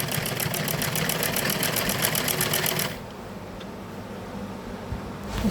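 A sewing machine runs at a fast, even stitching rhythm while sewing a folded fabric corner, loud and close, then stops partway through, leaving quiet room tone with a few faint handling clicks.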